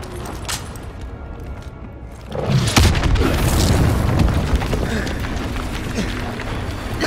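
A naval bombardment explosion in Call of Duty Modern Warfare 2 hits with a sudden loud boom, then a long rumbling roar of debris and blast noise that stays heavy to the end, with faint voices underneath.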